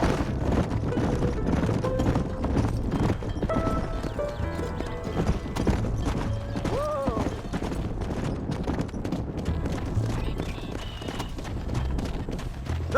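Steady clip-clop of several horses' hooves in Red Dead Redemption as they are led into a pen, with an occasional whinny and voices talking over the trotting.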